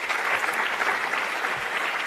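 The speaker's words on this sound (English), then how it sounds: "Let's give a round of applause for our panelists." Applause from a conference audience for a youth trade convention panel, dense and continuous clapping at moderate distance throughout.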